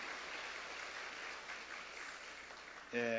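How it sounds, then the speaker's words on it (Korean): A church congregation's applause during a Sunday service, heard as soft, distant, rolling clapping that holds steady before a voice cuts in at the very end. "그렇게 하실 우리 하나님께 박수로 감사합니다"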